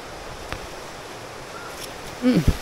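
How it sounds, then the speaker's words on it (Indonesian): Sumuran waterfall near the village of Seloprojo sends up a steady, even rush of falling water. The sound is soft and continuous and seems to come from a short distance, with a brief voice near the end. "Ini dia air terjun Sumuran."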